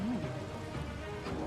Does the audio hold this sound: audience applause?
no